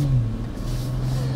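A BMW M440i xDrive Gran Coupé drives into a tunnel, its engine a steady, loud, close hum with a slight surge as the sound closes in and echoes.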